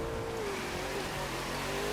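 A car engine revs steadily in The Crew 2 racing game while the car drifts, the throttle feathered in short bursts to hold the slide, with a continuous loud engine drone and a hint of tire noise and no talking.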